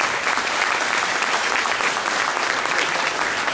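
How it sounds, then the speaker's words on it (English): Dense, steady applause from a gala audience at an opening ceremony, loud and continuous throughout. "Vanessa, give her a round of applause."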